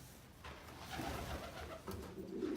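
Racing pigeons in a Florida loft, soft low cooing calls repeating close by over quiet background rustle, faint overall.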